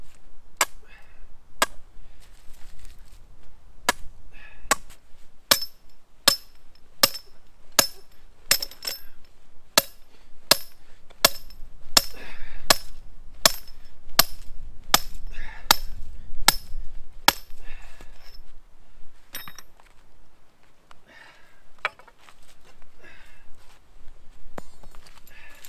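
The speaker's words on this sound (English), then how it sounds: "I'm gonna go ahead and drop my earth anchor in." An earth anchor is driven into the ground to bed a trap. About twenty sharp metallic strikes ring out at a steady pace, close and loud, over faint rustling outdoor noise. The last few seconds have lighter scattered taps.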